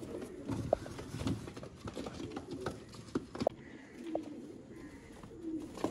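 Breeder pigeons in a loft coo softly at close range, with scattered taps and shuffling around them and a faint voice now and then.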